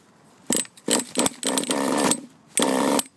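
A nitro RC engine is started and runs in short bursts, with loud, close buzzing revs that cut in and out several times before holding briefly.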